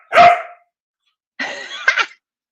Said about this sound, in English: trying to extinguish barking by training him to bark